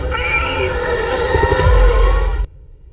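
A kitten meows in a T-Mobile ad with a long, wavering, close cry that rises and falls. It cuts off abruptly into near silence.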